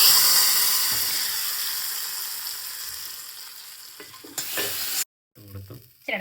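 An ingredient hits a hot pan of mango curry (mango pulissery), setting off a loud, close sizzle with steamy hiss that slowly fades, followed by a few stirring scrapes and clatters near the end.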